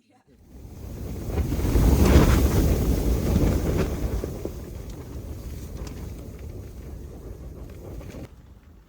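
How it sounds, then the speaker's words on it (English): Strong wind on Denali roars and buffets against the microphone in a heavy, rumbling rush that swells early, then settles into a steady blustery howl. "The winds were picking up."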